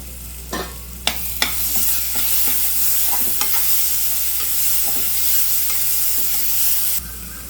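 Onions sizzle as they fry with ginger garlic paste for a mutton gravy. A spoon clatters and scrapes against the pan in a few sharp knocks over steady frying hiss, and the hiss ends abruptly near the end.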